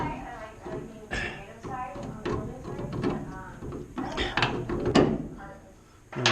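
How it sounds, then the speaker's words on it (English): A hand wrench working a bolt loose on a shock absorber of a Ram 1500 pickup, a series of close metallic clicks, clanks and ratcheting knocks at uneven intervals, with some talk mixed in. "So, wrench on there, and undo that bolt."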